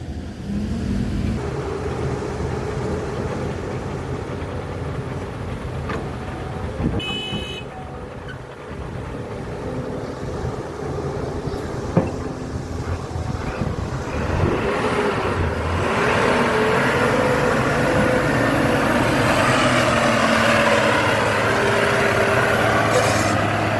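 Small and large vehicles roll in one after another, with a steady engine rumble that grows louder and fuller in the second half and a brief horn toot partway through.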